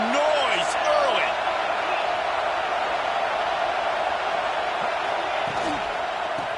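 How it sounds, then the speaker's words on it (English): Basketball arena crowd roars as a dense, continuous wash of noise, loud and steady from start to finish, with a play-by-play commentator talking over it. "This crowd bringing the energy and noise early."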